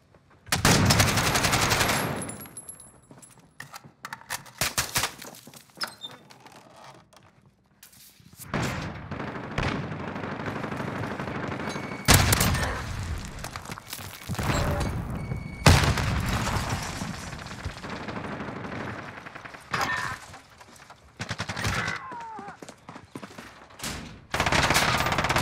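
Bursts of automatic rifle fire from an AK-47 in a first-person shooter game, with repeated rapid volleys and loud impacts separated by brief quieter gaps.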